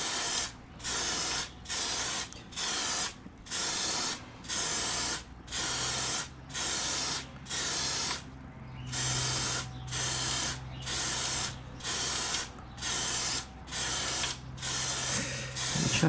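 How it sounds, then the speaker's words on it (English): A bicycle chain gets sprayed with cleaner in short, regular hissing bursts of about one second each, with a faint ratcheting clicking of the freewheel underneath as the crank is turned. "spray from the inside after you ride, because that will force its way through the chain with the capillary reaction"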